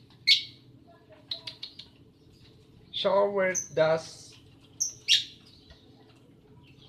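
A pet bird chirps in a few short, sharp tweets, near and clear, scattered between brief bits of close talk.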